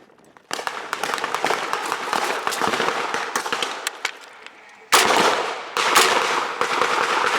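A machine gun fires blanks at a D-Day reenactment, loud rapid bursts of gunfire with sharp cracks close by, briefly easing before a fresh, louder volley near the end, with no talking.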